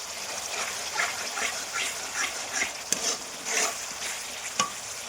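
Fish sizzles steadily in hot oil in a kadai-style wok, a dense bright hiss with occasional louder spatters and stirring scrapes, heard close up with no one speaking.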